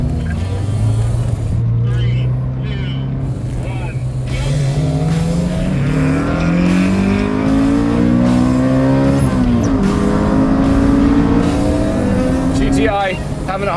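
A K24-swapped Toyota MR2 and a Golf GTI launch in a drag race, engines droning loud and close then climbing in pitch through the gears as revs rise, with a commentator talking over the roar throughout.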